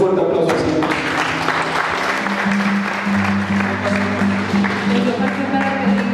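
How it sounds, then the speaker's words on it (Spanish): Loud, sustained applause fills a church service, steady clapping with crowd noise and a low hum underneath. "Dale un fuerte aplauso al Señor."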